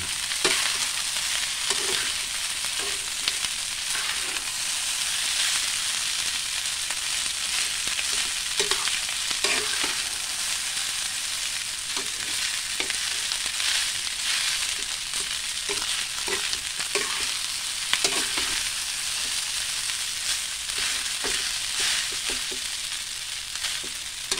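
Garlic sizzling in a hot pan, a loud continuous crackle with occasional stirring scrapes, steady throughout with no talking.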